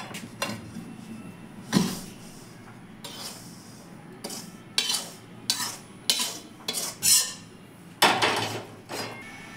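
Lightly fried pieces for kheer puli scraped and poured from a wok onto a plate, heard as a series of close metallic clanks and scrapes of utensil against metal in an irregular rhythm, with no talking.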